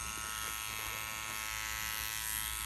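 A Dark Knight tattoo machine runs on skin with a steady, close electric buzz, holding an even tone and level throughout with no talk.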